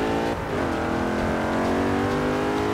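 A Mercedes SLK 55 in the Forza racing game pulls hard after a gear change to fifth, its engine note dipping briefly then climbing in a loud, continuous rising whine with no talk.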